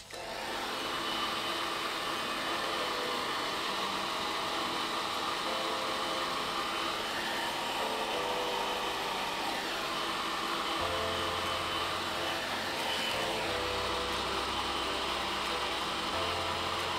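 Hair dryer blowing steadily on hair to finish drying it for center-part styling, a continuous loud broadband whoosh with motor hum that shifts slightly in pitch partway through, no talking.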